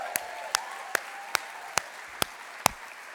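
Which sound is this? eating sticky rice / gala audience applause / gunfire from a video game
gala audience applause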